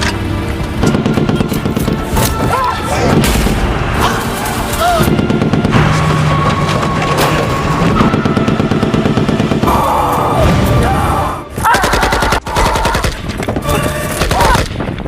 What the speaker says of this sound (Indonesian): Musuh melepaskan tembakan secara membabi buta ke arah mobil ambulans yang dibawa oleh April